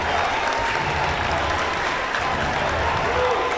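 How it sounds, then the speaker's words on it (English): Crowds at a district championship basketball game clap and cheer loudly on their feet, a dense continuous roar of applause and shouting filling the whole gym, steady and close throughout. "Both crowds on their feet. St. Henry's getting loud."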